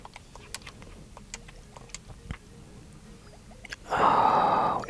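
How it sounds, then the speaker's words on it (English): Clicky D-pad presses on a ROG Ally handheld: a series of small sharp clicks in irregular rhythm, close and quiet, followed by a louder soft rushing burst near the end. "Love the clicky D-pad sounds are one of your triggers"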